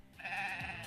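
A short, whiny bleating cry from the Bansheep monster in the video game Cassette Beasts, a single sustained wavering note heard alone.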